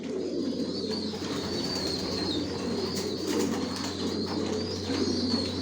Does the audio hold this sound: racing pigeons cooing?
yes